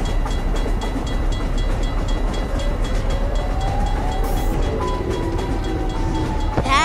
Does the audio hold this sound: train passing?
yes